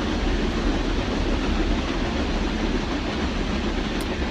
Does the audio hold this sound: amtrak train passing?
yes